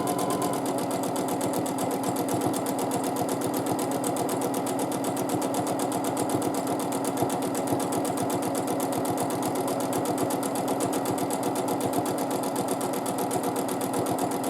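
A sewing machine runs continuously at steady speed during free motion quilting, its rapid, even needle stitching rattle close and alone throughout.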